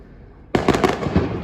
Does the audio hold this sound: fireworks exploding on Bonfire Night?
yes